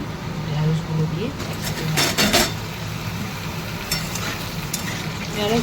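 Potatoes and okra fry in oil in a wok, a soft steady sizzle running throughout with clinks and scrapes of a utensil against the pan in short bursts near the middle.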